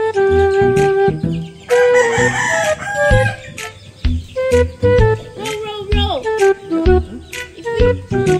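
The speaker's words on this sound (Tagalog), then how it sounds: "Daming manok." Several chickens cluck and a large-combed rooster crows nearby, loud and close, with a person's voice mixed among the birds.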